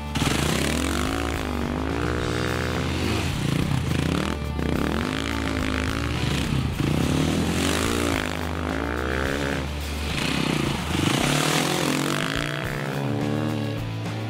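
A KTM 500 EXC dirt bike ridden in sand through repeated left and right turns, its engine droning loud and close with rising and falling revs, alone without talk.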